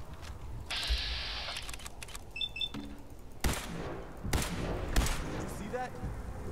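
Gunshots in Fallout 4 sound as several sharp, separate cracks spread across the stretch, each set over a steady game background with other effects in between.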